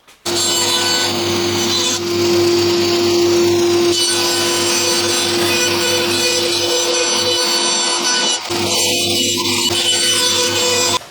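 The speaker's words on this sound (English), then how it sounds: "So over to the bandsaw." Bandsaw cutting wood for a gothic guitar body, a loud continuous whine with grinding blade noise held steady throughout, with no voices.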